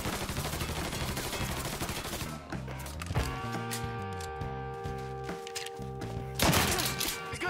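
Gunfire in Mafia III: Definitive Edition, with rapid bursts and single shots crackling at close range over sustained musical tones, growing louder near the end.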